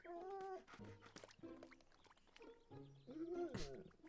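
A dog-like creature in the Pikmin 4 video game gives several short, high whimpering whines in a row, with other game sounds around them.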